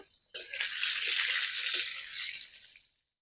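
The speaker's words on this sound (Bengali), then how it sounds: "এই আলুগুলো আমি তেলের মধ্যে দিয়ে আগে ভালো করে ভেজে নেবো" Potatoes dropped into hot oil set off a loud, steady sizzle that starts abruptly, holds for a few seconds without talk, and fades out at the end.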